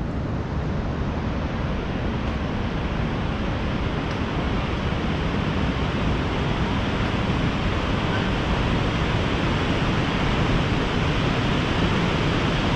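Water rushes in a steady, broadband roar from a waterfall beneath the wooden Haverhill-Bath covered bridge in New Hampshire, continuous and unbroken with no voices.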